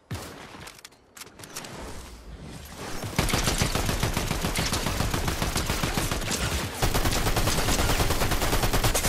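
Rapid automatic gunfire from a high-recoil gun in a ranked video game match, a few scattered shots at first, then dense, loud, sustained bursts rattling on without pause.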